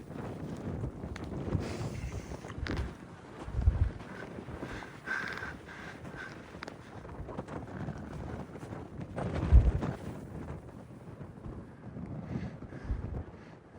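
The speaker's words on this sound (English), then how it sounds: "it's pretty windy" Gusts of wind buffet the microphone at Swan Lake Camp on the Great South West Walk in uneven low rumbles, swelling and fading over several seconds, with no voices.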